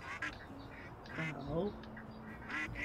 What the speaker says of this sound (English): ducklings sound pretty serious